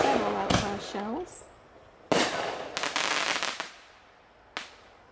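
First-class artillery shell fireworks launching from tubes, giving a few sharp, loud booming bursts with gaps of crackling decay between them, while people talk nearby at the start.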